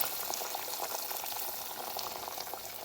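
Boiling water poured onto meat for Çankırı garlic meat, giving a steady, close bubbling and hissing wash with faint crackles throughout, no voices.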